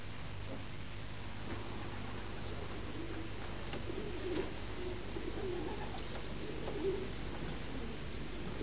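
Racing pigeons coo softly inside a loft, low repeated burbling calls at a steady, unhurried pace over a faint constant background hum.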